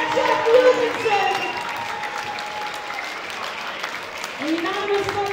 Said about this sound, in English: Let's have another massive round of applause for your red corner, Ryan.